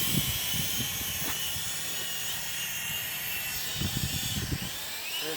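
An XK X300W drone whirs with a steady high-pitched hiss while flying in gusty wind and coming in to land, with a few low rumbling buffets of wind noise near the start and again toward the end.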